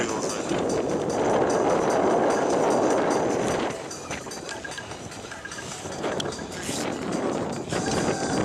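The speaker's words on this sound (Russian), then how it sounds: "Вот ветерочек у нас поднялся" Wind gusting across a ski slope near Kharkiv in late March, a steady broadband rush that swells and eases, loud and close throughout, likely buffeting the microphone.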